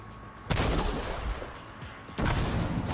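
A mortar turret in an explosive-build video game fires two heavy booming blasts about two seconds apart over a dense, continuous rumble of in-game battle noise.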